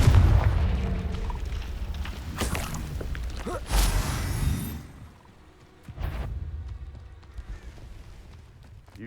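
A Confringo blasting spell explodes in Hogwarts Legacy, a booming magical detonation with a whooshing burst, followed by a second softer blast and fading rumble amid game ambience.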